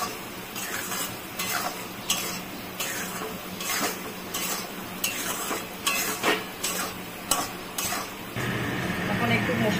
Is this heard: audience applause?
no